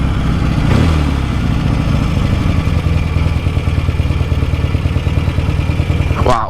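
A 1967 Norton Dominator 650 SS motorcycle engine idles close by with a steady, loud, lumpy thump, continuing throughout with no talking.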